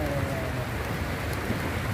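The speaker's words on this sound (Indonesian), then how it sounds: "Ini cuacanya ekstrim, hujan, petir." Heavy rain falls during a tilapia fishing outing, a steady, dense hiss of drops spattering nearby surfaces with no break.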